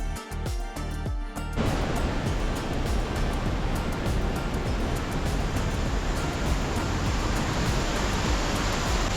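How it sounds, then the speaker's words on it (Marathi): Steady, loud rush of falling water fills the whole clip after a brief rhythmic sound at the start, like small waterfalls and streams pouring nearby at Thoseghar Waterfall in Satara, India. "हे ओढे छोटे छोटे पडणारे धबधबे इथूनच पडतायत"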